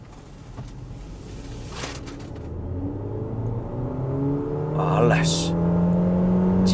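A Geely Starray EM-i PHEV accelerates hard in electric mode, its rising motor whine climbing steadily in pitch over several seconds while someone briefly speaks.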